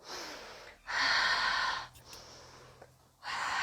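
Slow, deliberate breaths: a long audible exhale, a pause, then another strong breath, each airy and close, with no speech.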